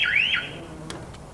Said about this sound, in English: the alarm is instantly set off.